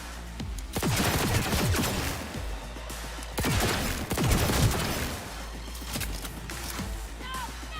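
Sustained gunfire in the video game Cyberpunk 2077, with dense overlapping shots, impacts and crashes swelling in loud bursts over a steady low rumble of game sound.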